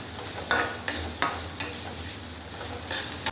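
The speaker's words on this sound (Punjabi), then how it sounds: "ਹੁਣ ਆਪਾਂ ਇਹਦੇ ਵਿੱਚ ਪਾਵਾਂਗੇ ਹਰੀ ਮਿਰਚ ਇਹਨੂੰ ਵੀ 2 ਮਿੰਟ ਭੁੰਨਾਂਗੇ" Green chillies frying with browned onion in a pan for potato and eggplant curry, a steady close sizzle broken by regular scrapes and knocks of a spoon stirring, about one every half second, with no voices.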